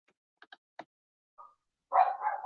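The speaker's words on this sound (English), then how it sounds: "The dogs are barking away, having that dog life." Several dogs bark in a background of an open bedroom window, a few short scattered yips early on, then a louder sustained burst of barking near the end.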